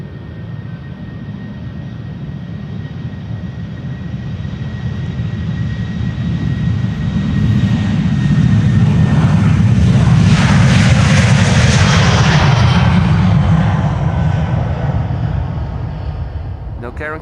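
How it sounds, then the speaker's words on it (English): KLM Boeing 737-700 departing Amsterdam Schiphol, jet engine roar swelling to a loud peak midway then easing, with a rising whine, and a voice talking over it. "this is KLM Flight 913 to Aberdeen, 737-700"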